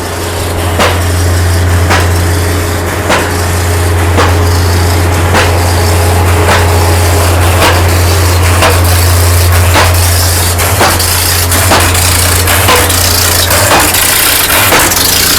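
A steel casing is driven down in sections for a bored pile foundation. Heavy machinery drones loudly and continuously while sharp knocking impacts repeat at a regular pace, roughly one each second, with no voices.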